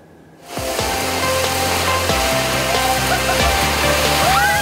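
Waterfall at Curug Cibitung in Subang, West Java, roaring steadily after a brief quiet start, a loud, dense, continuous rush of falling water close by.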